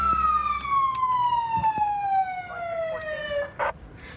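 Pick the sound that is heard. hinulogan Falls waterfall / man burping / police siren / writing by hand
police siren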